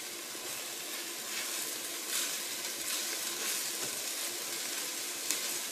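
Tomato and spice mixture for egg curry frying steadily in a pan, a continuous close sizzle with a bright crackling hiss that holds even throughout, with no voices.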